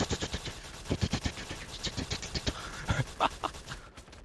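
Rifle gunfire in the LifeAfter video game, a rapid string of sharp repeated shots in an uneven burst rhythm, loud and close, with no talking.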